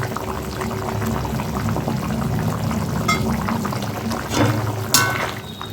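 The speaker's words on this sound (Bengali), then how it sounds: "এবার ওই নিরামিষ আলুর তরকারিটা ফুটে এসছে" A pot of vegetarian potato curry boils steadily, a continuous close bubbling and simmering with a few louder pops, alone with no speech.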